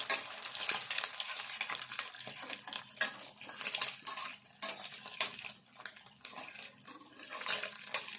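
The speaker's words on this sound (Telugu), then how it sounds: "ఇట్లా అడుగు అంటుకోకుండా కలుపుకోవాలి" Egg white sizzling in a pan while it is stirred steadily so it does not stick, a busy continuous crackle with repeated scraping strokes and no talk.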